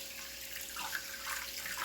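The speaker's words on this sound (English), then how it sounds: "I want some cold water on them also" Cold tap water runs steadily over a batch of boiled potatoes in a sink, a soft continuous splashing that stays quiet and even throughout, with no talking.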